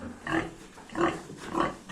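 A piglet squeals when touched, three short high-pitched cries at a steady rhythm, close and fairly quiet, with no voices.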